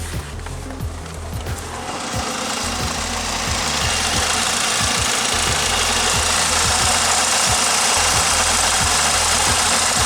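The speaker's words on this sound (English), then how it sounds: "Actually, doesn't idle half bad, really. Just shakes everything." A 1984 Pontiac Fiero engine idles close by, a loud steady rumble with rhythmic low pulses and knocking that settles into a constant broadband roar as it runs.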